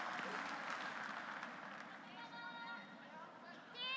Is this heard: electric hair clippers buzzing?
no